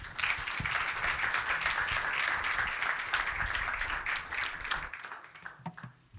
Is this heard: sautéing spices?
no